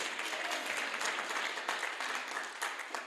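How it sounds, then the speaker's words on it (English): An audience at a neighborhood community meeting gives a round of applause, sustained and dense throughout with many hands clapping at once, heard from within the room at a moderate level. "Give a round of applause."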